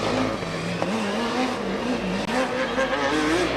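Formula Student race cars on track during an endurance event, engines droning steadily with rising and falling pitch as cars pass, some faint tire noise, loud and continuous.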